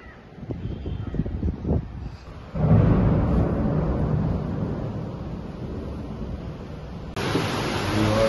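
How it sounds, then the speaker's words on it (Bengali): Deep thunder rolls under a cloudy sky with no lightning, a faint murmur that breaks into a broad, sustained low rumble after a couple of seconds and carries on steadily with wind-like noise. "মেঘলা আর আওয়াজও হচ্ছে, মানে বিদ্যুৎ চমকাচ্ছে না কিন্তু গ্রুম গ্রুম আওয়াজ হচ্ছে খুব"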